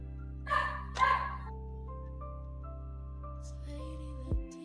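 A dog barks twice in quick succession, close and fairly loud, over a steady low electrical hum, then a brief thump near the end.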